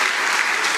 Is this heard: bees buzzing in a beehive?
no